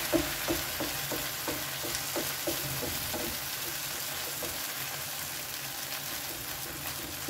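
Batter spread in a hot pan fries with a constant bright sizzle, accompanied by several rhythmic scraping strokes of a utensil early on that fade into steady frying.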